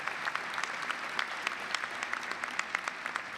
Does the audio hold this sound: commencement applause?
yes